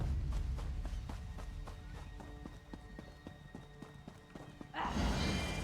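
A horse gallops in The Elder Scrolls Online, its hooves beating a rapid, even clip-clop over game ambience before a burst of broadband noise swells at the end.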